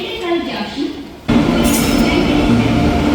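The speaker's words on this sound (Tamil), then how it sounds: "கன்னியாகுமரி எக்ஸ்பிரஸ் சென்னையிலேருந்து வந்துடுச்சு பாருங்க" The Kanyakumari Express arriving from Chennai on the Nagercoil–Chennai Central route, a steady loud rumble of train wheels and carriages rising suddenly partway through and holding, with a voice talking beforehand.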